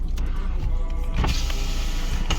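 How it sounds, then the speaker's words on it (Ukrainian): Electric power window motor whirring, followed by the short buzz of folding electric mirror motors, close and loud inside a 2011 Subaru Outback 2.5 automatic. "Вікно нормально. Відкривається, закривається гучно, дзеркала так роблять."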